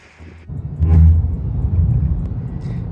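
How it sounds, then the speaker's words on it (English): A Ford Maverick pickup carrying lumber on a high roof rack drives along, giving a steady low road rumble and engine drone that swells briefly early on, then holds even and fairly loud with no talk. "here I am driving with the lumber on top on the high rack"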